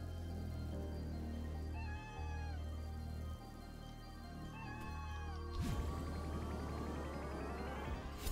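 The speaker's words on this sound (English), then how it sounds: "Oh my god, you can pet the cat." A cat meows twice in a mountain climbing video game, each a short, clear call set over a steady musical game soundtrack, followed by a brighter chime-like sound.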